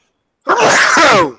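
A single loud, close sneeze bursts out after a brief silence, sharp at the start and trailing off over about a second.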